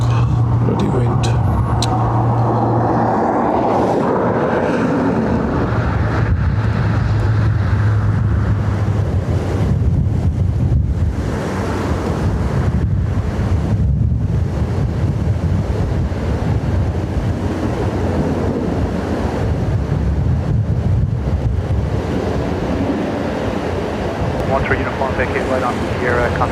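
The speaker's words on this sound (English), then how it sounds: "Bloody wind." Heavy wind buffets the microphone outdoors at an airport, a loud, constant rumbling roar with gusty swells that runs the whole time, with faint voices underneath.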